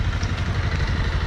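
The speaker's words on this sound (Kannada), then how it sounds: "ನಮ್ಮ ಬೈಕ್ಸ್ ಎಲ್ಲ ರೆಡಿ ಆಗ್ತಾ ಇದೆ" A motorcycle engine idles steadily with a low, even rumble and light mechanical clatter, close and continuous for the whole stretch, with no voices, as bikes are readied for a Bengaluru-to-Wayanad road ride.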